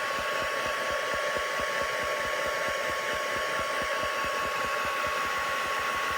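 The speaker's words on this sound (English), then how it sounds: "But for the save time of the video, I decided to use the ink gun." Heat tool for drying ink on a stamped card, a loud continuous blowing whir with a rapid steady pulsing hum, close and unbroken throughout.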